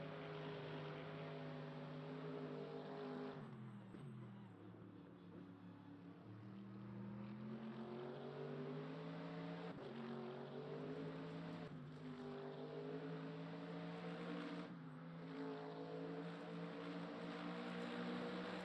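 A Mercedes race car in Le Mans Ultimate drones with a steady, buzzing engine note that climbs in pitch and then drops sharply at several gear shifts, holding strong and close throughout with no talk.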